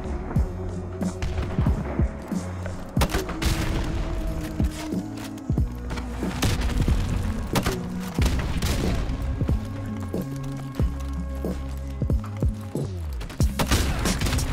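Gunfire in the shooter game Modern Warfare Remastered: repeated loud bursts of shots and booming impacts, some in quick volleys and some spaced apart, running throughout with only short pauses.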